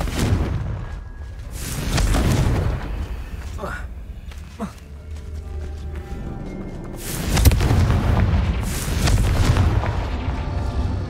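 Confringo fire-spell blasts in Hogwarts Legacy, booming explosions with roaring rumble at intervals, the loudest bursts near the middle and end, while a voice speaks throughout.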